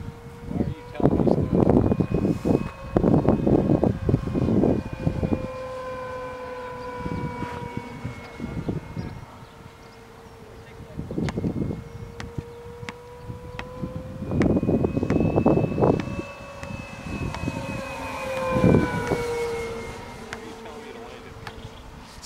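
An Extra 300 radio-controlled model airplane flies overhead, its buzzing, whining motor tone drifting up and down in pitch as it banks and passes, steady throughout with bursts of people talking over it at times.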